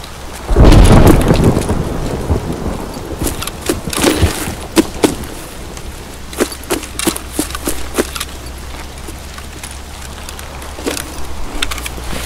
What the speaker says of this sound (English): Maybe it's just the rain.